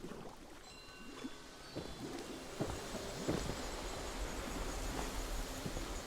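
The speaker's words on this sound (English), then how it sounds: "Now it's gonna be pouring down rain." Steady rain falls with low rumbles of thunder in the video game Fallout 76, a faint, continuous wash of pattering broken by a few soft distant booms.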